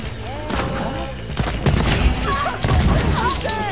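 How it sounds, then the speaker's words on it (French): Pump shotgun blasts in Deathloop on Xbox Series X, a few heavy booming shots spaced about a second apart, mixed in with game sounds and brief voices. "Efficace le fusil à pompe."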